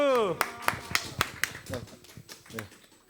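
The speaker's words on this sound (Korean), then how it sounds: "박수." A youth congregation at a Sunday worship service claps, a burst of sharp separate hand claps that thins into scattered applause, nearby and fairly loud, alongside a voice at the start.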